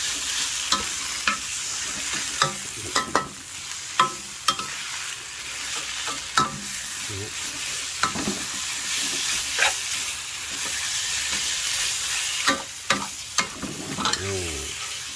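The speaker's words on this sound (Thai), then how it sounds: "น้ำปลาหน่อยครับก็นี่หอมแล้วครับผัดไปเรื่อยๆครับ" Beef panang curry being stir-fried in a hot pan: a continuous loud sizzle with repeated sharp scrapes and clanks of a spatula against metal at an irregular pace, close up, with no talking.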